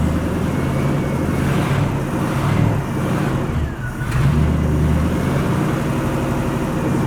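Old hot rod Studebaker, revived after 60 years, runs loud and close, its rough engine idling unevenly with a few surging revs and a brief dip before settling back into a steady rumble.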